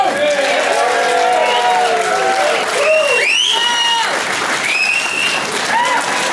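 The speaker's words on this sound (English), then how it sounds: "just give him another round of applause" Audience applause and cheering at a Blues Hall of Fame induction in Kettering, Ohio, a dense steady wash of clapping that fills the whole stretch, with whistles and whoops rising above it and speech mixed in.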